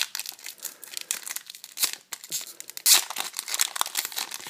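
Crinkly foil wrapper of a Yu-Gi-Oh Metal Raiders booster pack being torn open, a close, loud run of rustling crackles and sharp tearing bursts with no talking.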